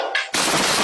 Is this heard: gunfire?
yes